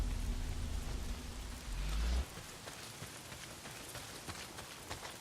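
Rain pours down in the Days Gone video game, a soft, even hiss of falling drops with a low rumble in the first couple of seconds.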